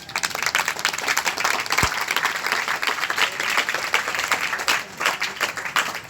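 An audience of school students and staff gathered for a Sahaj Yoga meditation session claps together in sustained, dense applause at moderate distance, steady for several seconds with one sharp thump partway through.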